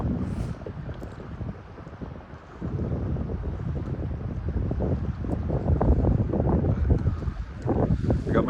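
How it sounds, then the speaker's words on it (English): Wind gusts roar over a whitecapped, choppy lake as heard from a kayak, with a rough steady rush and water slapping nearby, swelling stronger toward the end. "That wind is starting to push again."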